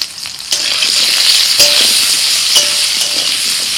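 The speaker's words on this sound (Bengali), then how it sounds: "কড়াইতে সরষের তেল দিয়েছি, খিচুড়িতে দেওয়ার জন্য সবজিগুলো ভাজবো। প্রথমে দিচ্ছি আলু" Potatoes frying in mustard oil in a kadai give a loud, close, continuous sizzle, with a soft stirring scrape and clink of a utensil against the pan now and then.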